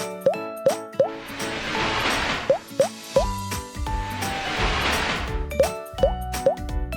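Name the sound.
flood water splashing sound effect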